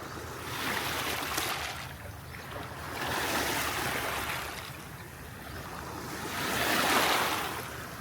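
Sea waves roll onto the shore at Oslob beach in Cebu, three slow swells rising and falling in steady surges of broad wash with some wind, no voices.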